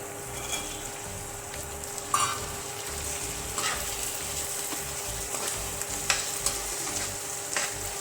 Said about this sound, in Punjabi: ਪਿਆਜ਼ਾਂ ਦੇ ਨਾਲ ਹੀ ਆਲੂਆਂ ਨੂੰ ਪਕਾ ਲਵਾਂਗੇ